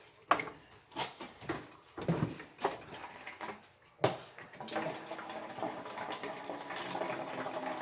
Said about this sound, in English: I'm not going to add that much water, but I'm going to add some.